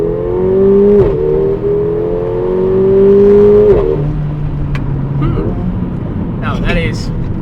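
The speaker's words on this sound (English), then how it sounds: "let's go for a drive in the A45 S." A Mercedes-AMG A45 S hot hatch accelerates hard, its engine note rising through the revs, dropping at a gear change, then climbing again, loud and close from inside the car.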